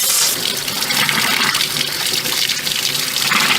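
Pressurised water rushes steadily through the engine cooling system of an old barn-find Volvo under restoration, a continuous loud hiss and gush with no pauses.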